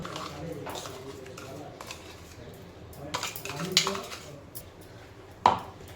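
Ground spice paste for stuffed capsicum scraped from a grinder jar onto a plate, a series of soft metallic scrapes and clinks with a sharper knock near the end, close and fairly quiet.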